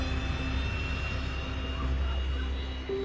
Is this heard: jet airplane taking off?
yes